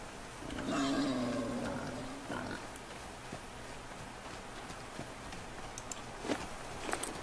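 A wild boar in the survival game The Flame in the Flood gives a low grunting growl early on, then fades into quiet ambience with scattered small clicks and rustles.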